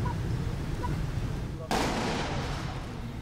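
An M2A1 105mm artillery gun fires a ceremonial round: one sudden booming report partway through, followed by a lingering rumbling decay over steady background noise.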